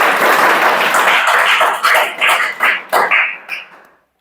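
A classroom of students claps hands together, a dense burst of applause that breaks into a handful of separate, fading claps before stopping.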